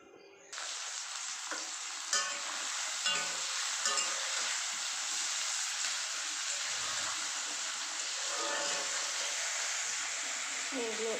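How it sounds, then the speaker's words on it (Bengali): Ground spices for dal frying in a hot pan, a steady loud sizzle running throughout with a few stirring clatters and faint voices in the background. "এগুলো একটু ভালো করে ভাজা করে নেব"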